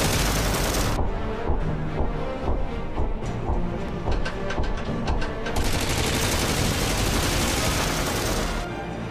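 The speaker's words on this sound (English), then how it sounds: "The gun belts out 800 bullets per minute." A 12.7mm machine gun mounted on a T-90 Bhishma tank fires long, continuous bursts, loud and dense, with brief gaps and a rapid rattling texture throughout.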